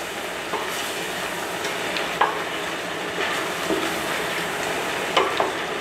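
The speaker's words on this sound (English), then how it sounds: "So it's sizzling away" Lamb sizzles steadily in a pot while cooking akhni, a constant frying hiss with a few occasional clinks of a utensil stirring.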